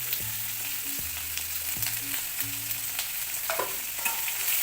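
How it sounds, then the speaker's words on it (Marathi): Onion frying in a pan over medium heat with salt for poha, a steady close sizzle with a few spatula scrapes and knocks, no speech. "आता कांदा आपल्याला चांगला परतून घ्यायचा आहे."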